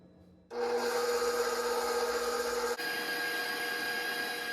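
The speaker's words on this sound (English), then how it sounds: "Now I'm gonna whisk the egg whites." Egg whites for French macarons are whisked briskly in a bowl, a continuous close rasping whir that starts abruptly and runs steadily, with a slight shift in tone partway through, and no talking.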